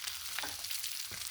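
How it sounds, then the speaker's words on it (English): Bacon sizzles and crackles on a Blackstone griddle, a soft steady frying hiss with a few brief scraping stirs, heard alone without talk. "So the bacon is cooking up pretty quick."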